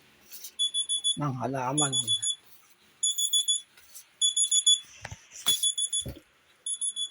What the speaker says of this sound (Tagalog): yung alarm ng cellphone ko